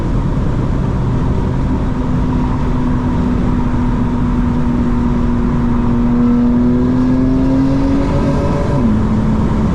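A 900 hp 2025 BMW M4 Competition xDrive pulls hard in fifth gear, its engine note climbing steadily in a loud, continuous drone before a brief dip near the end, heard from inside without talk.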